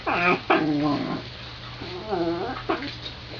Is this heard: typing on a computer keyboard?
no